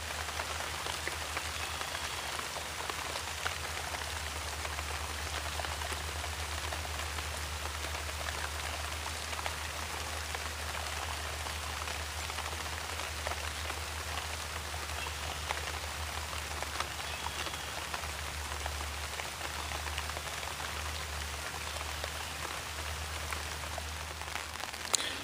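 Steady rain falls outside, a constant, even hiss of drops on surfaces with no pauses or voices, continuing unbroken throughout.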